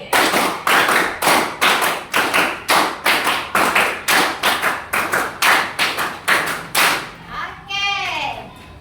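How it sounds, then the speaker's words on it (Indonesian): Children in a classroom clap in a steady run of sharp, loud group claps, many beats in a regular rhythm, ending in a brief squeal of voices. "tepuk 5 kali."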